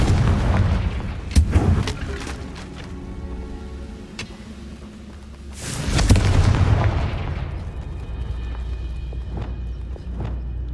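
Two loud fiery blasts from the Confringo fire spell in Hogwarts Legacy, the first a sharp crack and the second a bigger roaring burst, with crackling and a lingering ringing tail in between and after.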